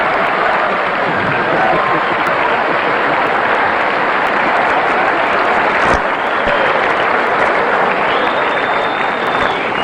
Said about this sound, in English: And by the applause, Jack,